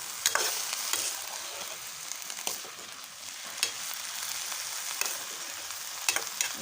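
Food frying in a pan for a homemade dish, a soft continuous sizzle with occasional sharp crackles and stirring clicks, close and fairly quiet, with no talking.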